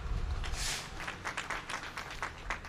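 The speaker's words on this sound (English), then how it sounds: "give him a round of applause" Audience applause for the governor at an event in Atlantic City, a brief, fairly quiet patter of clapping from a small crowd, steady and then tapering.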